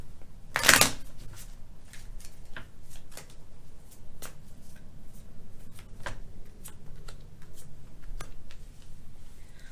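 Tarot cards being shuffled by hand, with a sharp riffle burst near the start followed by soft, repeated slapping and ticking of cards, quiet and close without speech.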